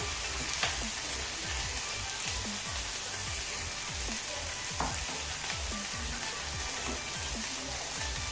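Masala spices frying in a pan of oil while making lemon rice, a steady dense crackle and sizzle with frequent small pops, moderately quiet and continuous throughout without a break.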